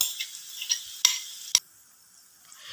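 Onions for Gobi manchurian are stirred in a pan, with a few sharp spatula scrapes and clinks over a light sizzle that fades into near silence.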